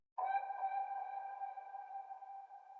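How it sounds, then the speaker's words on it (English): An owl-style accent sample in a dark hip-hop beat, pitched to the beat's key: a single sustained, hooting synthetic tone with clean harmonic layers, holding steadily for nearly three seconds on its own. "I got this accent called Owl, and I just pitched it to fit the key of the sample."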